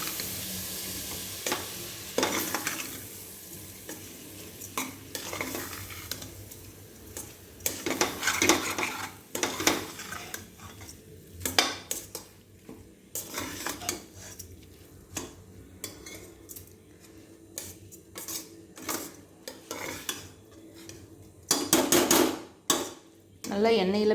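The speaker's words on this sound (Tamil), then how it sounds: "நல்லா எண்ணெயில் பிரட்டி விடணுங்க." Rice is stirred in hot oil in a metal cooking pot, with a spoon scraping and clanking against the sides in irregular bursts over a faint sizzle. It sounds close and fairly loud, with no talking.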